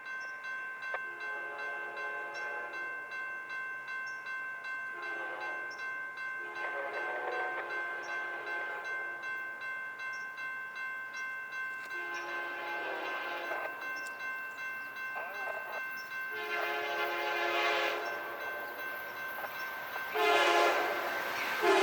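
An Amtrak Cascades passenger train passes on BNSF tracks in Sumner, Washington, sounding its horn in several long blasts over a steady rumble of rolling cars, loud and close.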